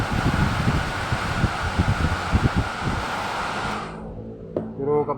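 A Mercedes-Benz E-Class W210 air-conditioning blower motor runs with a steady airy whoosh and fan rumble, then cuts off near the end, leaving a brief faint mechanical whir.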